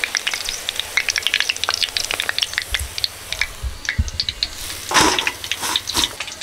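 Sliced onions fry in plenty of hot oil for chicken dum biryani, a steady crackling sizzle with sharp pops and bursts, close and fairly loud, with occasional stirring scrapes and no talking.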